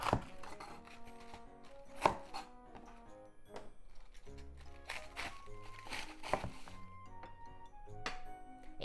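A knife slices through a cabbage on a cutting board, halving it around the core for a sausage hot pot, a series of soft, irregular crunchy cuts and thumps, fairly quiet, with brief faint clinks.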